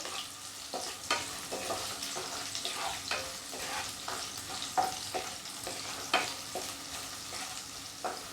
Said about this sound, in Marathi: आता ही हिरवी मिरची आपल्याला छान अशी भाजून घ्यायची आहे